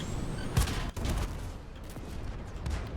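Battleship gunfire barrage in the video game World of Tanks, with heavy booming blasts and a dense rumbling volley rolling over three seconds, loud and sustained.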